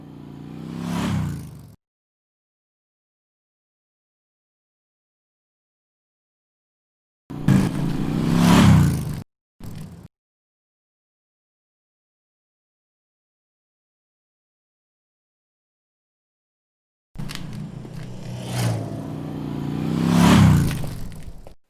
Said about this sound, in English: different lengths of motorcycle pass-bys